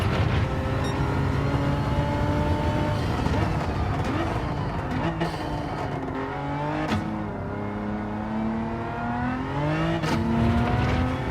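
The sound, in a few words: Hyundai race car engine in video game Gran Turismo 7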